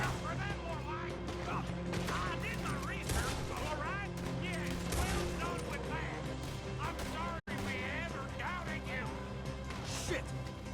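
A Red Dead Redemption 2 gunfight, with scattered shots and crashes mixed into a busy soundscape as voices talk over the action throughout.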